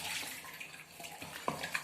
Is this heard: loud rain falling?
no